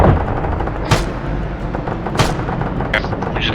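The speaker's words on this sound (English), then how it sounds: "We just got strafed by that sheeper." Heavy strafing gunfire in the military game Arma 3 hits in three sharp, loud bursts over a steady low rumble of combat noise.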